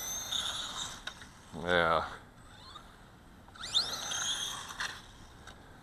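Brushless Dromida MT4.18 RC monster truck at full throttle lets out two short, high whining bursts that sweep upward in pitch, with quiet gaps between, a faint rustle and one brief spoken word.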